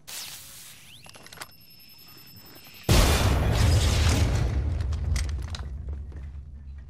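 A grenade explosion in Apex Legends bursts suddenly after a quieter stretch of faint movement, then gives way to a loud, sustained low rumbling roar that slowly fades.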